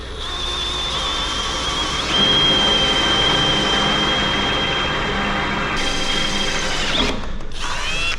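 A brushless power drill drilling through metal whines steadily at close range, with a high-pitched grinding tone that holds for several seconds, then cuts out and briefly restarts.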